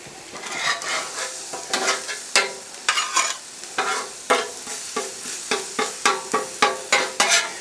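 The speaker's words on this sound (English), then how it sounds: "It almost liquefies it on the griddle." Pork fried rice sizzling on a Blackstone griddle while metal spatulas scrape and chop it, a steady frying hiss broken by rhythmic, fairly loud clacks close by.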